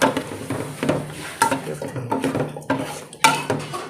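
Thai curry paste for chicken curry with glass noodles stirred in a metal pot before the stove is lit, with a rapid series of close spoon scrapes and clanks against the pot, loud and uneven.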